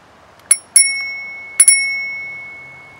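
A bicycle bell mounted on an Amp Bikes electric trike rings twice, then once more, bright close dings with a clear ringing tone that decays slowly after each strike.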